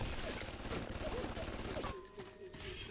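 Gunfire in the video game Bioshock, a loud rapid burst of shots over dense game noise that drops off near the end.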